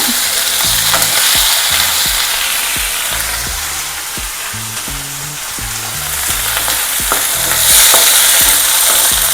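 Long strips of eggplant are stirred in a hot frying pan for a biryani, with a loud continuous sizzle broken by repeated scraping strokes of a spoon, close up and with no talking.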